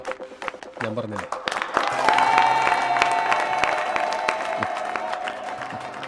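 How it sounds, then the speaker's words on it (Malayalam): Audience applause swells and holds as a steady wash of clapping and crowd noise over music and scattered voices, loud and close throughout. "ഈ കൈയടിയാണോ?"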